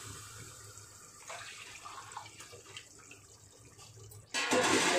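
Hot water is poured out of a cooking pot in a home kitchen, a soft continuous trickle and splash that ends in a louder, fuller gush.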